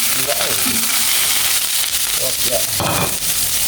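Onions sizzle loudly in a hot pan, a steady dense frying hiss close by, with a few short spoken words and voices over it.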